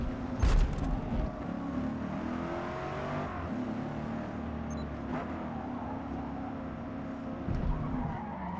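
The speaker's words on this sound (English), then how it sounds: "the tires are giving out on us as we send this car into a drift off bounds" In the Forza Motorsport racing game, a 2024 Corvette E-Ray C8 on the Nürburgring GP circuit slides into a drift, tires squealing and skidding over a steady engine drone, with a couple of louder scuffs.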